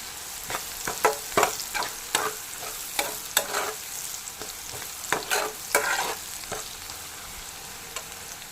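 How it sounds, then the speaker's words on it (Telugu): Egg curry with turmeric is stirred in a pan, a series of distinct spoon scrapes and knocks against the metal repeating roughly every half second over a light sizzle, close and clear without talk. "కొంచెం పసుపు వేసి మొత్తం కలుపుకోండి."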